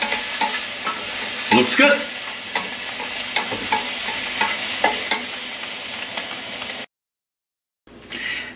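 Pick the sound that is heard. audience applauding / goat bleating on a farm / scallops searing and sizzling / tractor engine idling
scallops searing and sizzling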